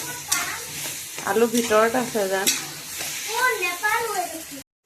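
Mango pieces and jaggery fry in a pan with a soft, steady sizzle and occasional stirring, heard under a person speaking.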